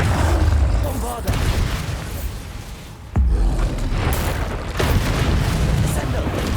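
Bombarda spell blasts in Hogwarts Legacy, heavy rumbling booms that hit loud and close, with a sharp new blast about halfway through, under a voice calling out spells.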